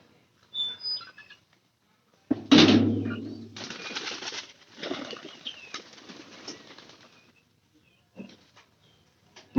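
Pigeons feeding on corn kernels make a burst of wing flapping up close, followed by soft shuffling and faint scattered fluttering, with quiet gaps in between.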